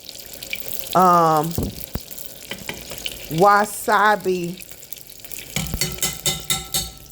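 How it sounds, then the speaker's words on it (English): Soft sizzling of collard green and rice spring rolls frying in oil runs throughout, broken by a few tonal clatters and swirling, splashy bursts toward the end. "While this is frying"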